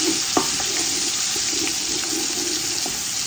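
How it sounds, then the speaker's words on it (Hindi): Garlic-ginger paste, three tablespoons of it, spits and fries in hot oil in a pot for pulao, a steady broadband crackle with a few sharp pops, close and continuous. "ये भर के 3 टेबल स्पून जो है वो मैं लहसुन अदरक के डालूंगी"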